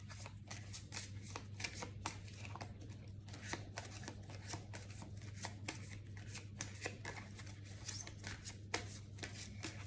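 Tarot cards are shuffled by hand in a rapid, continuous run of crisp riffling flicks, close but fairly quiet over a low steady hum.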